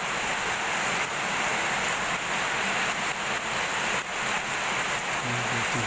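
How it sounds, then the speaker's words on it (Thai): Steady rain falls over flooded rice paddies in rural Thailand, a continuous dense hiss with no talk, close and fairly loud throughout. "ฝนยังตกอยู่เลยครับผม"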